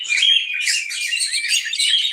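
Bright, busy chirping and tweeting from several small caged birds close by, continuous overlapping calls with no talking.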